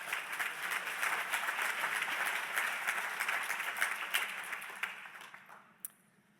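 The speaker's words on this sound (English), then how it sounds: "Let's give them a big round of applause." Applause from a conference audience at a healthcare leaders' opening ceremony, dense and steady for several seconds before thinning out to a few last claps near the end.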